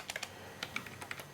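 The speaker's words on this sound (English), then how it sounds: "Then I click in there, and then I will type out my message." Typing a message on a computer keyboard, a quick irregular patter of light key clicks, close but quiet, with no voices.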